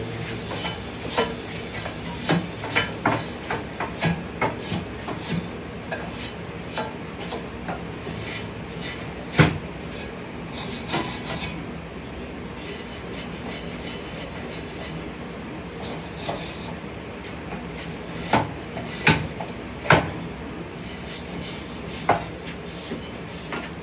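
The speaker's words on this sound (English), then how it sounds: "initially just take a wire brush, wire it off" Surface rust is scrubbed off a Jeep Wrangler exhaust with a wire brush: repeated close, raspy rubbing strokes in an irregular rhythm, with occasional sharper scrapes and no talk.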